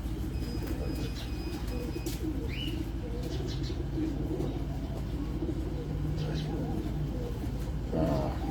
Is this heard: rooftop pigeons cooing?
yes